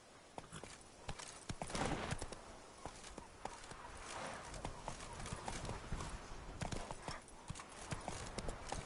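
Roach, a horse in The Witcher 3: Wild Hunt, gallops with steady rapid hoof clip-clop on the ground, close and continuous, with a brief whinny and a voice urging the horse on over the hoofbeats.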